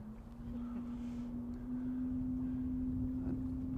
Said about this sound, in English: An extremely noisy engine.